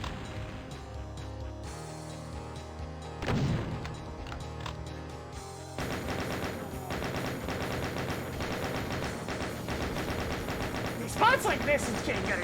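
Enemy chain gunners in a video game keep up continuous rapid fire, a dense rattling stream of shots layered over busy game sound and music, steady and moderately loud throughout.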